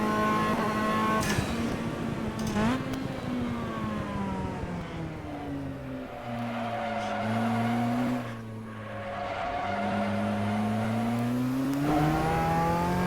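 Race car in Assetto Corsa sliding through a big four-wheel drift, loud engine note rising and dipping while tires squeal and scrub across the corner, the revs climbing again as it straightens out.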